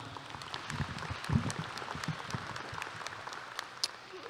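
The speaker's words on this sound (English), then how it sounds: "Let's give her another round of applause" Scattered applause from a graduation audience, fairly faint and distant, with sparse individual claps and a few louder bursts over a soft room background.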